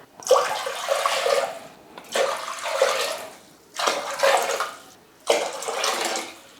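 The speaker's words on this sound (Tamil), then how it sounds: "இப்போ வந்து அஞ்சு கப்பு தண்ணி வந்து சேர்த்துக்கிறேன்" Water pours into a pot in four separate bursts with short pauses between them, splashing and gushing loudly into the container.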